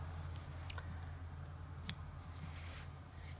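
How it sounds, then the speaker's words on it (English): Scissors give a few quiet, crisp snips close to a knot while yarn is wound into a magic yarn ball, as light isolated clicks over a low background hum. "you're just going to snip your yarn again"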